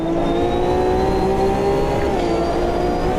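Porsche GTE race car engine from Automobilista 2 (AMS2) holds a steady, loud high-revving drone, with a sustained sharp whine that dips slightly near the end, continuous and alone without talk.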